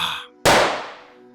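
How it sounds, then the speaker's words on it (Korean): A single sharp gunshot cracks loudly, then its echo rolls away and fades slowly over about a second. "산속에 메아리치는 총성."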